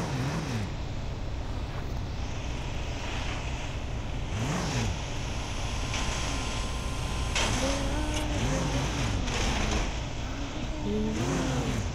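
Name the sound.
Porsche car engine while parking in garage, video game Car Simulator 2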